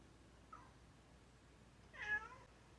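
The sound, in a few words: pet cat meowing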